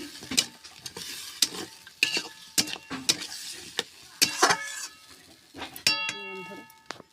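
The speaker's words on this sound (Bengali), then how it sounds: "আমার চিকেন কষা চলছে" Yogurt-marinated chicken frying in a pan while being stirred with a utensil, with a steady sizzle and repeated scraping clinks, close up; a metallic ring sounds near the end, and speech is present.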